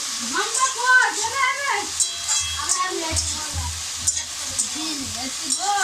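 Leafy greens sizzle and crackle in a hot pan while being stirred, with a voice talking over the frying.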